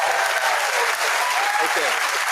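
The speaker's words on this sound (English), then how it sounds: "a round of applause for that." An audience gives steady, dense applause throughout a live Friday-night interview show, a continuous wash of clapping that stays level and close for the whole stretch.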